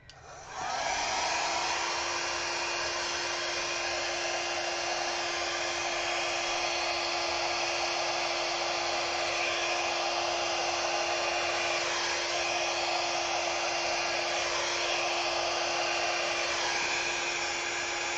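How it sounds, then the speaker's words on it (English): A torch blows steadily over poured glue medium in a resin-style pour, giving a loud, continuous roaring hiss that starts abruptly and holds for the full length without pause. "let me give it a quick torch"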